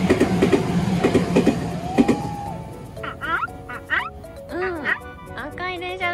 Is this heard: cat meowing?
no